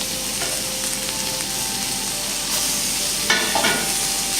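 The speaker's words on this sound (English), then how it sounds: "I'll start placing the lamb on it gently so that they can sear." Lamb sears in a smoking hot cast iron skillet, producing a loud, steady hiss of frying with a brief burst of sharper crackling near the end, and no speech.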